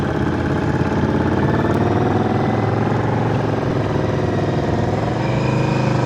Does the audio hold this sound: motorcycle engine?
yes